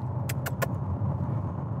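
A BYD Tan electric car climbs a hill under acceleration, a steady low road and motor rumble from inside the cabin, broken by three quick sharp clicks early on.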